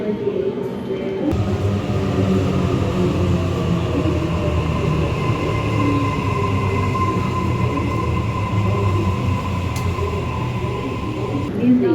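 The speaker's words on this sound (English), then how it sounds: "So our train just arrived" A train arriving at a station in Sydney rumbles steadily nearby with a continuous low roar and faint metallic hum, sustained throughout without pauses.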